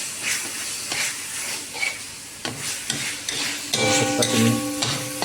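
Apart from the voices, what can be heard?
onion paste sautéing in a kadhai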